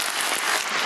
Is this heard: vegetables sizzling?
no